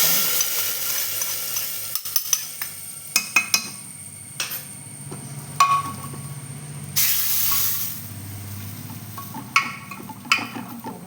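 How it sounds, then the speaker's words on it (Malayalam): Chopped onions sizzle and hiss softly in a hot pan on a gas stove after the flame is switched off, a steady low frying hiss broken by a few sharp clinks of a utensil against the pan, with no talking. "ഇതാ ഗൈസ് എൻ്റെ ഉള്ളി ചൂടായി ഞാൻ ഗ്യാസ് ഓഫാക്കി ഇതിലേക്ക്"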